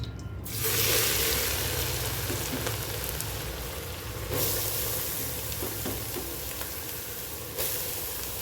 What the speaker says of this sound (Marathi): थोडं तुपात आपण गाजर परतून घ्यायचं आहे